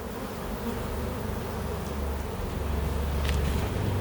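Honeybee colony buzzing from an opened hive heavy with honey, a dense continuous drone close up, steady and loud throughout with a few single bees whining past near the end.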